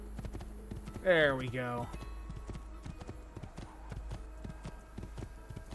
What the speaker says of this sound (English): we're gonna steal a horse